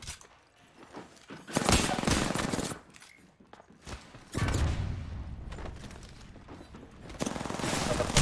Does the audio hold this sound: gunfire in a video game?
yes